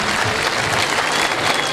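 Dense, steady applause from an audience welcoming a district governor and a mayor to their seats at a concert, filling the whole moment with even clapping and no pause.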